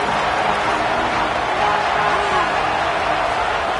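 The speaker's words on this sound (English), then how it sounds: "Decibels rising as the crowd gets behind this defense on 3rd down." A large stadium crowd at a football game roars steadily for the defense on third down, a dense, loud wash of cheering that holds throughout.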